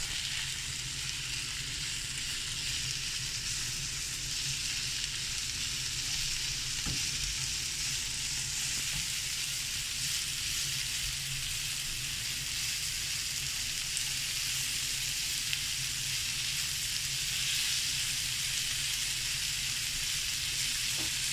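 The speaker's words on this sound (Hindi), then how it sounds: "प्याज को थोड़ा सा फ्राई करते हैं।" Chopped onions sizzle and fry steadily in a hot pan for a cheese omelette, a dense continuous crackle with faint stirring taps, close and alone.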